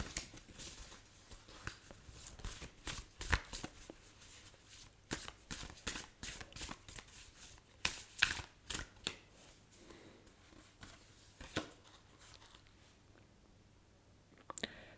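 Angel oracle cards are handled and shuffled on a table in a series of quick, soft flicking riffles, close and fairly quiet, with pauses between bursts and no talk.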